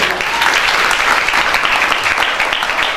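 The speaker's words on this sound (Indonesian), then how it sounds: "Tepuk tangan dulu untuk Ustadz Junaidi." Loud, close applause from a school audience at a Maulid religious lecture in Jakarta, clapping for Ustadz Junaidi, a dense continuous burst of many hands lasting the full few seconds without speech.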